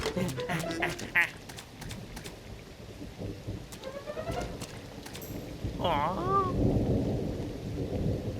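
Rain falls in a Tamil cartoon along with thunder, a steady wash of rainfall under rumbling, with cartoon voices and squeaky sound effects heard over it.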